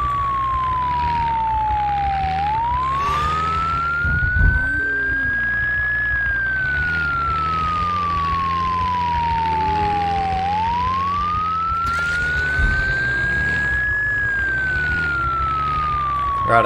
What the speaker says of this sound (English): there's another cop car here